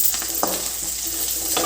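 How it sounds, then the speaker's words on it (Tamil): Curry leaves crackle and fry in hot oil with softened garlic and onion, a steady close sizzle with brief stirring scrapes and no voices. "இப்போ நம்ம கருவேப்பிலை ஆட் பண்ணி நல்லா கருவேப்பிலை பொரிய சொல்லி நம்ம வெயிட் பண்ணலாம்."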